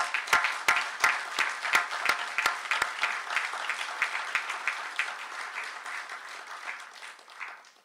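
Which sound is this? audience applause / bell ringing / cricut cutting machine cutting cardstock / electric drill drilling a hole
audience applause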